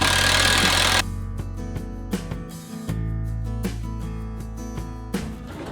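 A power drill whirs in short, repeated bursts as 2.5 inch screws are driven into picnic table wood. After a brief broadband rush, the motor holds steady, punctuated by sharp clicks and bumps, close and fairly loud.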